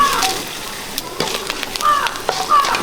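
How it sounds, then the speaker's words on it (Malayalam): Mustard seeds and chillies sizzling in hot coconut oil for a kovakka (ivy gourd) thoran, a steady close crackle with scattered pops and spits throughout. "കടുകിട്ട് കൊടുക്കും രണ്ട് മുളക് മുറിക്കാൻ ഇട്ട് കൊടുക്കും"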